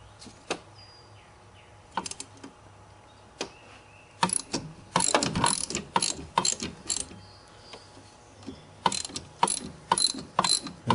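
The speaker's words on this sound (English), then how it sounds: "I'm going to actually have to man up and use a wrench." A ratchet wrench working a 13 mm bolt on a Ford Taurus engine during intake manifold and timing cover work, giving repeated bursts of rapid pawl clicking with short pauses between strokes, close and without talk.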